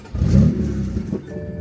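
A manual-transmission car engine revs in neutral, a loud low rumble swelling near the start and then holding steady as the RPMs hang and climb, close to the microphone.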